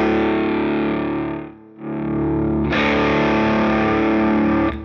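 Distorted electric guitar through a NUX Steel Singer Drive pedal as the volume knob is adjusted: a loud sustained chord dips briefly, swells back, then rings out brighter and fuller.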